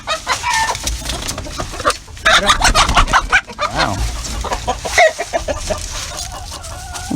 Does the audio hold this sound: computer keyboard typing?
no